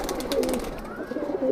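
Madrasi pigeons at a seller's loft in India give soft, low cooing calls, a steady murmuring burble over faint background noise, with a brief higher whistle-like note midway.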